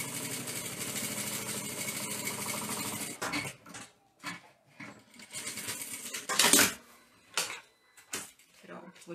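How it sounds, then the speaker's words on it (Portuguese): A sewing machine stitches a baby bottle holder, running steadily and fast for about three seconds, then moving in short stop-start bursts with brief handling noises between them, close by. "Só costurar de novo."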